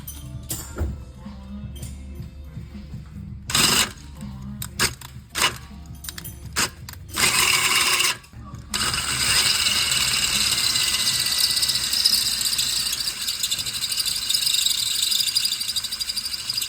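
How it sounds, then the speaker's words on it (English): A power drill bores a hole in a brake caliper for a Time-Sert thread insert, starting in short bursts and then running in a long continuous whining grind. "First thing you gotta do is drill the hole."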